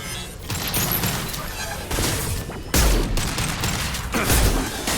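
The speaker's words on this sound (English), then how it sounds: "Firing a high-impact shot!" High-impact gunfire in the video game Mass Effect 2, a rapid burst of loud, heavy shots with booming impacts and a sharp blast near the three-second mark, dense and close throughout.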